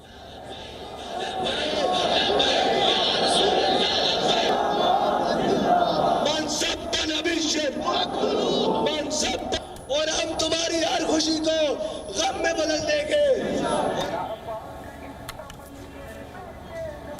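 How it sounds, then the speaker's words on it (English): A huge crowd at a funeral in Pakistan roars and chants in a sustained, loud babble, with rising and falling waves of voices that swell for most of the clip and thin out toward the end. "Crowds as far as the eye can see"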